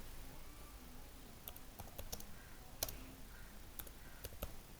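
Computer keyboard keys being typed, scattered sharp clicks and taps at an irregular pace, fairly quiet and close, with no talking.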